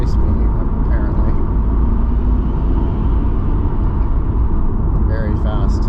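A Toyota MKIV Supra on the road gives a steady, loud, dense rumble of engine and road noise from inside the car, unbroken for the whole stretch, with a brief faint voice-like sound near the end.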